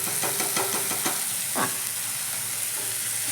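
Garam masala, turmeric, dried chilli powder and salt hit a hot pan beside curry leaves and are stirred by hand, giving a close, steady sizzle with rhythmic scraping strokes of the spoon, then a softer hiss as the stirring slows.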